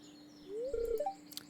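Birds chirping in the Stardew Valley video game: a few quiet, brief rising whistles and chirps over a steady low hum, fairly soft.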